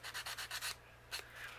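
Quick rhythmic rubbing strokes of sanding with a foam nail file, about six in a row, then a pause and one more stroke, close up with no talk.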